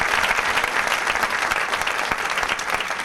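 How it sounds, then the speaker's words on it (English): Steady, dense applause from an audience at a BIBA event, continuous and fairly loud throughout with no clear speech over it. "a round of applause also for Babak Emamian"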